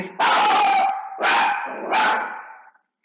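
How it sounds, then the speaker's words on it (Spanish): A small dog barks three times in quick succession, close and loud, each bark a sharp yelp that fades at the end, with no other sounds around it. "el perrito"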